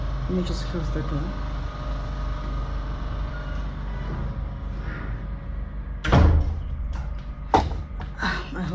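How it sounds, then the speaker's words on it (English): A door shuts indoors with a loud thud, followed by a few smaller knocks and clatters, while a generator hums steadily outside and someone speaks quietly before it. "Let me just close the door."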